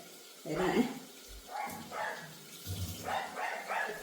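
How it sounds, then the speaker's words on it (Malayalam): A neighbour's dog barks next door in a series of short, fairly loud bursts, with a person talking over it at close range. "പട്ടിയുടെ കുര ഭയങ്കരമായിട്ട് കേൾക്കുന്നുണ്ട് ഞങ്ങളുടെ അടുത്ത വീട്ടിലെ പട്ടി"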